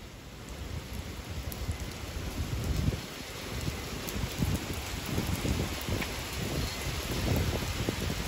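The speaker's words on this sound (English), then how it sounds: "I mean a lot of rain." Heavy thunderstorm rain pours down steadily, a dense rushing patter that swells a little at times, with no voices.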